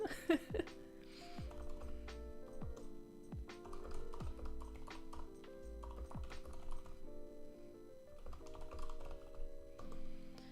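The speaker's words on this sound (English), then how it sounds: "Excuse me while I type, I can't really talk and type at the same time." Fingers tap steadily on a computer keyboard in close, irregular bursts of clicks under soft background music, with short pauses between runs of keystrokes.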